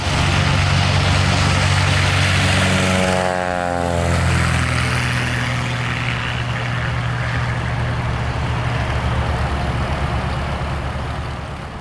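A Bearhawk propeller airplane drones steadily in flight on its way to McCall for fuel in the Idaho backcountry, a loud continuous engine hum with a slight pitch sweep as it passes, recorded from another plane's tail.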